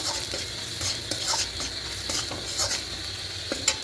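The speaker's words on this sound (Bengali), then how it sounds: "এটা খুব ভালো করে মাছের সঙ্গে সব কিছু মিশিয়ে নেব" Coriander, cumin, turmeric and chili powders being stirred into fish in a frying pan, a steady sizzle overlaid with repeated scraping and tapping strokes of a spoon against the pan, close and continuous.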